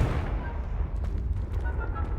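The Confringo fire spell in Hogwarts Legacy blasts with a deep booming rumble and crackling bursts, loud and sustained against the game's background sound.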